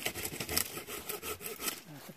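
Branches being sawn by hand to clear a dense briar thicket on rough ground, with a steady back-and-forth rasping stroke, close and moderately loud, in repeated pulses.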